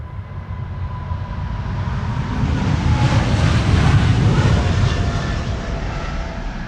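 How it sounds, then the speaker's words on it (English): KLM Asia Boeing 777-200ER departing Amsterdam Schiphol on a long-haul flight to San Francisco, a broad steady jet roar that swells toward the middle and stays loud throughout, mixed with wind rumble and no talk. "this is KLM Asia flying to San Francisco in the United States of Asia, a 777-200ER"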